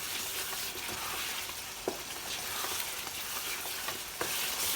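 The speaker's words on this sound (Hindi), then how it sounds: "चिकन को बहुत अच्छे से हमने भूनना है। ये भुने जा रहे हैं।" Chicken frying in a pan with masala, a continuous close sizzle with soft spoon stirs and occasional light scrapes.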